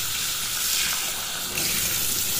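Tap water runs steadily into a sink as several kinds of fresh fish, including parshe, are rinsed and cleaned, making a continuous close gushing sound.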